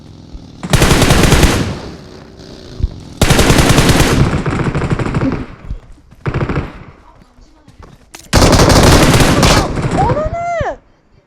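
Loud automatic gunfire from a shooter video game comes in long, dense bursts separated by short pauses, with a rising whine near the end; a voice is faintly audible.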